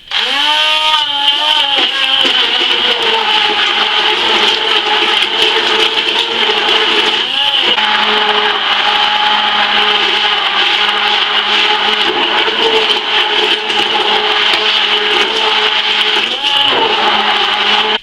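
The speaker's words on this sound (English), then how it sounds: "now I am just going to pulp these strawberries up." A blender pulping strawberries whirs loudly and steadily, a constant high motor whine with a brief dip in pitch now and then, running without pause.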